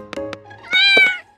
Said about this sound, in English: Tom, you are a bad cat.